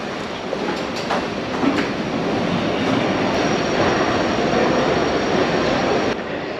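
Steady rumble and rattling of a train rolling through a railway station in Rome, with a continuous broad hum and faint clicks, no voices.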